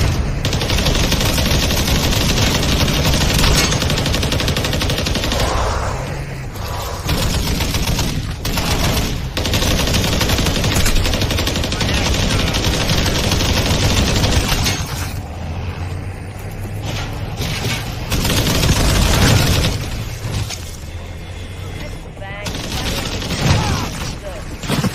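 Rapid automatic gunfire from a video game street battle, dense bursts and volleys running almost continuously and loudly, with brief dips between bursts.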